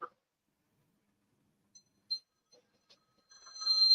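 A phone by a kitchen sink gives a few faint, scattered chirps in near silence, then breaks into a sustained electronic ring that grows louder over the last moments.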